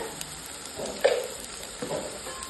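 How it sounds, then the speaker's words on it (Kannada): Tomato and garlic paste frying in a pan, a soft steady sizzle with a couple of brief stirring scrapes, close and fairly quiet with no talking. "ಇದೇನಂತಂದ್ರೆ ಇವಾಗ ಹಸಿ ವಾಸನೆ ಹೋಗೋ ತನಕ ಸ್ವಲ್ಪ ಫ್ರೈ ಮಾಡ್ಕೊತೀನಿ ರೀ"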